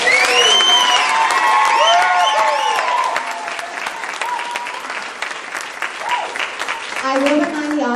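A political debate audience breaks into sustained applause, with dense clapping and some cheering filling the room at first, then gradually thinning out toward the end.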